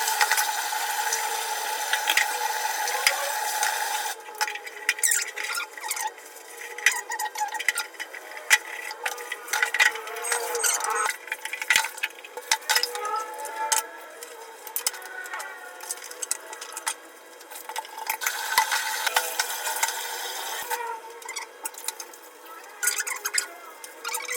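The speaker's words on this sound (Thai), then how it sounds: "เราจะไปล้างจานกัน" Dishes being washed at home, with intermittent clinks, scrapes and splashing water running fairly loud and steady close by throughout, with no talk.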